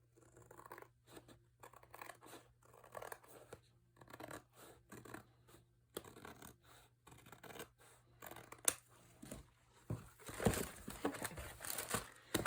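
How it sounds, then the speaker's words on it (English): Scissors trimming excess paper off a craft desk folio: a series of crisp, close snips and scraping paper rustles, sparse at first and then quicker and louder with crinkling toward the end, no speech. "And then I'm just going to trim the excess off here."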